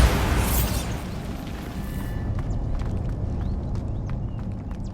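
A Bombarda spell explosion in Hogwarts Legacy bursts loudly at the start and decays into a long rumbling wash, with light clattering debris and footsteps ticking through the tail.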